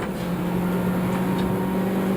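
A Rover Turbo race car at Silverstone runs steadily as the driver eases off the throttle, a continuous loud engine drone with a strong low tone and no break across the short stretch.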